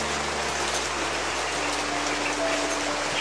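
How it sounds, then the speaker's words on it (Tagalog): Steady rain falls outdoors as a continuous, even hiss with a faint low hum beneath it, and no one speaks. "May ulan na po, do."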